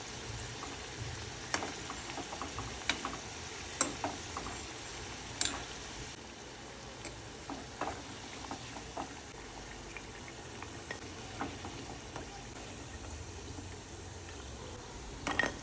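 Bhakarwadi deep-frying in hot oil over a medium flame until crisp, a steady low bubbling and sizzle with scattered soft pops and crackles throughout, no voices.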